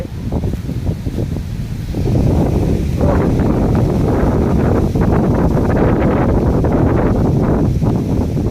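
Strong gusting wind ahead of a storm in a village, roaring and buffeting the microphone, rising after a couple of seconds and staying loud and steady.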